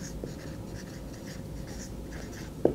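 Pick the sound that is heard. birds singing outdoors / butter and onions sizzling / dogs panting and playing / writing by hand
writing by hand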